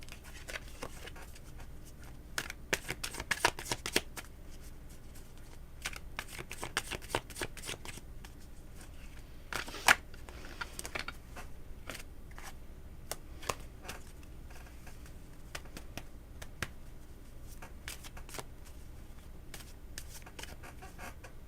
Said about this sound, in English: That's what I'm shuffling these cards for.